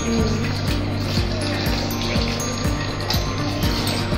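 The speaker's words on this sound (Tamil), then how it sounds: "இந்த கறியை நல்லா கழுவி எடுத்து" Pieces of raw mutton are washed by hand in water while cooking a curry. A continuous close sloshing and splashing of water runs throughout with a faint, regular rhythmic clatter, and no voices are heard.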